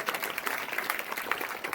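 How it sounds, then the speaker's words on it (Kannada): Audience clapping at a religious discourse gathering, honoring a donor with dense, steady applause across the whole moment at moderate loudness. "ಆ ಜಗದೇವಪ್ಪನಿಗೆ ಜೋರಾಗಿ ಚಪ್ಪಾಳೆ ತಟ್ರಿ"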